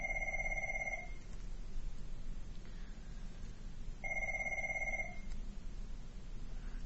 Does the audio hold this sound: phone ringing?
yes